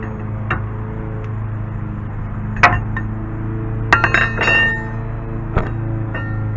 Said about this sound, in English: I'm going to show you how to remove the inner tie rod with a 40 millimeter wrench.